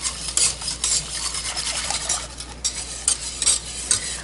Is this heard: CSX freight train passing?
no